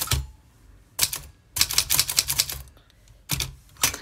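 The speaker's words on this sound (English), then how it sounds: "I did have a question as to typing on the cursive typewriter." Bursts of clattering keystrokes on a cursive typewriter come in quick runs separated by short pauses, loud and close, with no voices.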